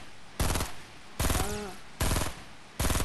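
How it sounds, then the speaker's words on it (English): Bursts of automatic gunfire in the Fortnite battle royale game, four loud rapid-fire volleys spaced about a second apart, each a dense stutter of shots with brief gaps between. "He doesn't know where he's getting shot from."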